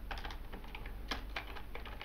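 Quick, uneven clatter of keys on a computer keyboard while C++ game code is being typed, a close run of light taps with one sharper stroke partway through and no voices.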